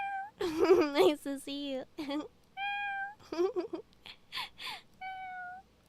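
A cat meows repeatedly in short, plaintive cries at close range, several in quick succession, while a person speaks briefly in between.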